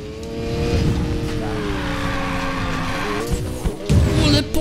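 An Audi drifts in Need for Speed Payback: a steady engine drone with tyres squealing through the slide, and scraping and impact noises near the end.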